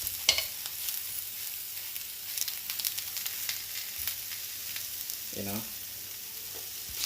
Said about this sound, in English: trying to braise this beautiful vegetables